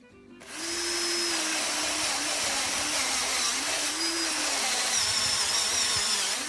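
A blunt power drill whirs loudly and continuously up close after a brief quiet start, its pitch wavering slightly as it bites.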